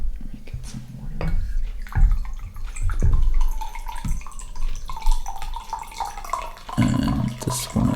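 Water poured or running from a tap at home during a livestream, splashing and trickling in bursts with clinks and handling noise, a voice murmuring briefly underneath.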